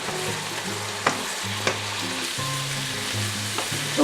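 Onions simmering in Coca-Cola in a pan, most of the liquid cooked off, keep sizzling steadily while a spoon stirs them in repeated scrapes and knocks against the pan, close and clear with no voices.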